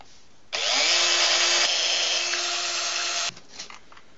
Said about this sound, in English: we'll need to drill a hole in the top of our cap